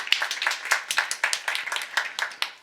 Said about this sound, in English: The claps are so loud today.